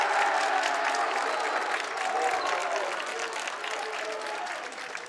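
Crowd applause at a high school boys varsity basketball game, with a JV team among those clapping, a dense steady wash of clapping and cheering that slowly fades, under faint voices.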